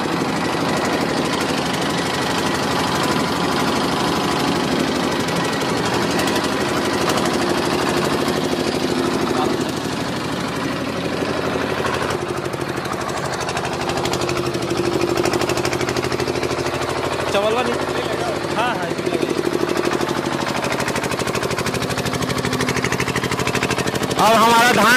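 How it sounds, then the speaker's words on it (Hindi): A new engine-driven mini rice mill runs steadily while hulling paddy, a loud continuous mechanical drone with knocking vibration that lasts the whole stretch. "हम लोगों ने इंजन चालू कर लिया, अब इसमें लाइव डेमो हम लोग करेंगे, धान कूट के देखेंगे कैसा क्या आ रहा है।"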